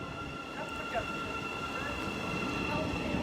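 A commuter train to Sutton rolls into a London station with a steady low rumble and faint high squealing tones, a continuous mechanical drone from start to finish.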